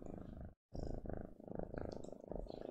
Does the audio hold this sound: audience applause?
no